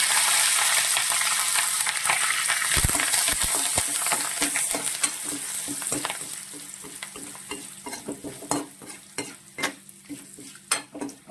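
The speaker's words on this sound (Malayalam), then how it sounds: "ഇഞ്ചിയും കൂടി ഒന്ന് വറുത്തെടുക്കാം" Steady sizzling of curry leaves and ginger frying in a pan, with a spatula scraping and stirring in irregular strokes that grow more distinct toward the end.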